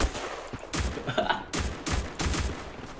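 Bursts of rapid gunfire from the shooter game Black Squad come in loud, close clusters of shots with brief pauses between them.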